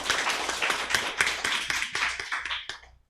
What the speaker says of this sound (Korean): 이럴 때는 박수를 쳐주는 거예요